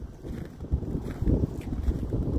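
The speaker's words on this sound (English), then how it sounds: "It's windy out here. It's windy outside." Strong wind blows outdoors on the first day of spring in Canada, a low, buffeting rumble against the microphone, steady with gusting surges and no voices.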